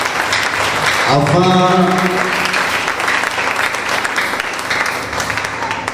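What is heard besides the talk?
congregation applauding at a prayer service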